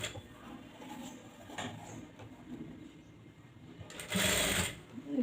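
A sewing machine stitching lace onto a blouse runs in a steady whirring hum with slight changes in speed, then revs into a louder, faster burst near the end.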